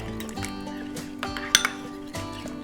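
Greek yogurt and honey being mixed into a sauce, with a few light clinks of a utensil against a bowl over a steady background hum and faint stirring.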